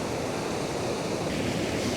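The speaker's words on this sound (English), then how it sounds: "with the sea crashing on the beach" Sea waves crash and wash over a rocky beach with a steady, dense roar of surf throughout, fairly close and without voices.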